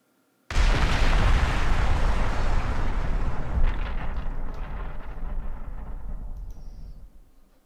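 In the Crysis video game, an object slams into water with a sudden loud crash that swells into a long, rumbling roar and slowly fades over several seconds.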